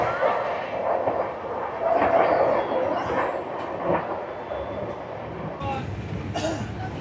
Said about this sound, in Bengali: কোলফিল্ড এক্সপ্রেসে আমি যাচ্ছি, সুপার ফাস্ট ট্রেন এটা